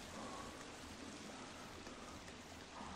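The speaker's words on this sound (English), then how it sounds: "Oh yeah, you can hear all the water." Water flowing in a cave in the video game The Forest, a steady hissing, rushing wash that fills the whole stretch evenly at moderate level, with no voices.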